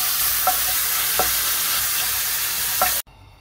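Mushrooms seasoned with pepper sizzle in a frying pan over lowered heat, a steady close crackle broken by a few scraping stirs before the sound cuts off abruptly.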